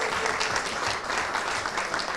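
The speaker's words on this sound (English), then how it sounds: "And then clap more for his wife." Sustained clapping from a seated audience at a leadership conference awards evening, dense and even, filling the room at a steady level without a break.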